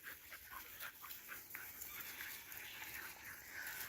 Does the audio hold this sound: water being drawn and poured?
no